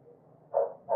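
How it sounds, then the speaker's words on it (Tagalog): A dog barks twice downstairs, two fairly loud, separate barks rising over a low steady background hum, with no one talking. "May kumakakal na aso sa baba."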